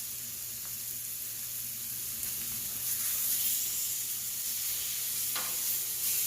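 Steak sizzles steadily on a Blackstone flat top griddle, a constant close hiss of frying fat with a few soft scrapes and pops, and no one talking.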